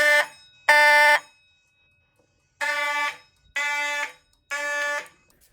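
Fire alarm horns in a hallway during a system test, including the 9838 and 7002 models: loud, harsh buzzing blasts in a pattern of two, a pause, then three more, with no talk over them.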